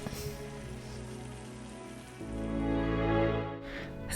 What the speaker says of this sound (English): Gently saute it for about a minute.